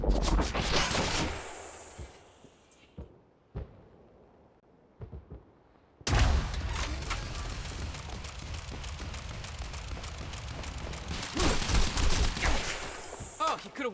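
Turrets in the Quantum Break game fire in loud, rapid bursts of automatic gunfire. The first volley breaks into a few scattered shots, then a long, sustained barrage erupts nearby.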